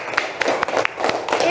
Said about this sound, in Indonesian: Tepuk tangannya untuk kelompok